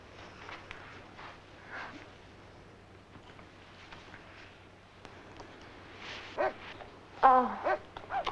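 Dogs bark and whimper in short bursts toward the end, fairly near, after a stretch of quiet room tone and footsteps.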